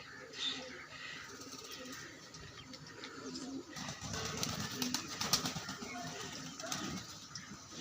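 Pigeons cooing inside a loft of costly pet pigeons, soft repeated coos under a steady busy background with some rustling and fluttering throughout.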